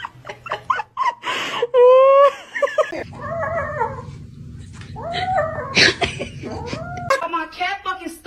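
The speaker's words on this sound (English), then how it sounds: "My cat fucking stuck in the fucking floor" A cat stuck in a floor meows and caterwauls in drawn-out, pitched cries, close and loud, with people talking and exclaiming around it throughout.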